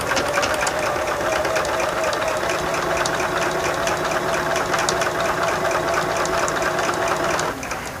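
A sewing machine runs nonstop joining quilt pieces with nested seams for a star block, a steady close rhythmic hum and clatter that cuts off near the end, with no voices.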